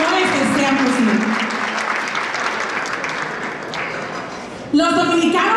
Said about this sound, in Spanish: un fuerte aplauso para este grupo de hombres y mujeres